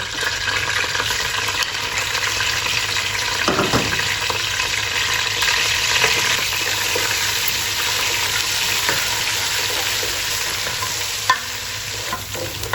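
Ginger-garlic paste fries in a pot for pakora kadhi, a steady sizzle with occasional stirring scrapes, continuous and fairly loud, no voices.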